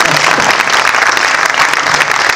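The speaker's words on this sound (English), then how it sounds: "let's give these gentlemen a big round of applause" A conference audience gives panel speakers a loud, dense round of applause, many hands clapping close together in a continuous roar for a couple of seconds.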